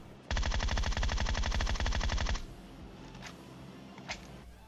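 A sustained burst of rapid automatic gunfire from PUBG Mobile rattles for about two seconds, then a couple of faint distant shots follow.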